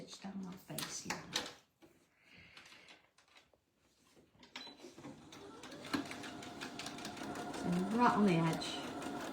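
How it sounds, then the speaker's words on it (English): Sewing machine top stitching the facing of a small shirt, a fast close mechanical whirr building after a few seconds of handling noise and a spoken remark, running steadily to the end. "So let's just top stitch down that face here."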